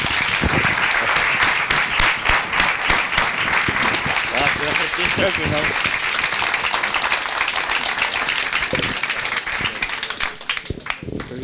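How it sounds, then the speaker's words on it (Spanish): An audience at a talk on economy and vocation applauds speaker Martín Traverso Sheffer, loud and close, with sharp individual claps inside a full, sustained ovation that thins out and becomes more scattered near the end. "vamos a darle un aplauso a Martín Traverso Sheffer"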